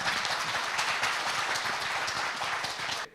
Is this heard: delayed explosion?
no